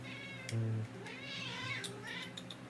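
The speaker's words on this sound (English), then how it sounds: "I feel like this video is like really loud due to my cat because he wanted his attention" A pet cat meows for attention, giving a close, loud meow followed by softer drawn-out whines and a few short calls, all without talk.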